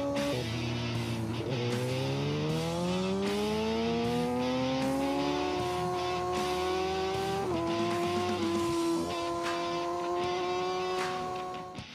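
Racing motorbikes scream past at high speed, engines climbing and shifting pitch in long rising whines, with several loud overlapping passes and no talk.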